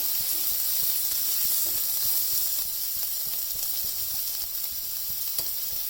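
Grated ginger sautéing in a pan for whole green moong dal, a steady close sizzle and hiss with faint scraping stirs running throughout, no voices.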